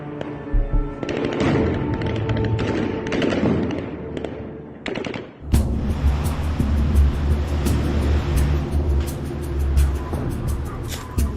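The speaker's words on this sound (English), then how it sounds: "the Russians fired round upon round of warning shots" Russian forces fire round after round of warning shots in wartime Ukraine, a loud, continuous crackle of gunfire mixed with shouting and commotion that sharpens into dense bursts partway through.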